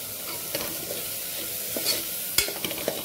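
Carrot pieces go into a sizzling pan of dalia khichdi, bringing a quiet, steady frying hiss with a few soft stirring clinks and scrapes near the end.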